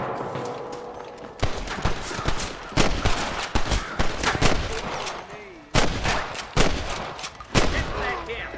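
Repeated gunshots ring out in Red Dead Redemption, a close, loud, irregular volley of sharp cracks coming in bursts over several seconds, with a shouting voice in the background.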